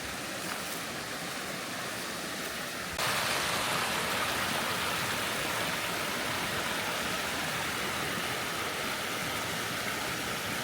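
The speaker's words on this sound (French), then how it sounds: "La cascade du Grand Gour." The Cascade du Grand Gour waterfall on a river in the French countryside, a steady loud roar of falling water that swells stronger after a few seconds as the listener draws nearer, with no talk.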